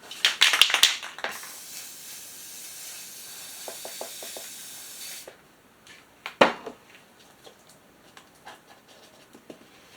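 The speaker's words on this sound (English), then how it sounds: "we're just going to spray some black right into this bowl" Black spray paint hisses into a bowl in a steady burst lasting a few seconds, preceded and followed by scattered clicks and knocks of handling, close and moderately quiet.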